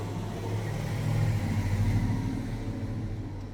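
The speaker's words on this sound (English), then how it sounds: "Got some large trucks driving by here." Large trucks pass close by outdoors, giving a loud, continuous low engine rumble that swells slightly midway and then holds steady.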